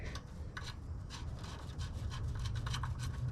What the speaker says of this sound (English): put back the oil drain plug with a new washer by hand first